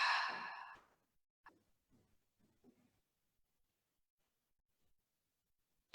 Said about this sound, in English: Breathing in again and breathing out with sound.